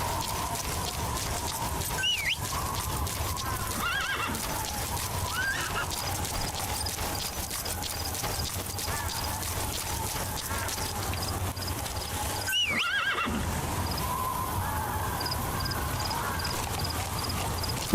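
Horse in the Metal Gear Solid video game, with a whinny and hoof clip-clops over a steady ambient game soundscape, with a second neigh later on.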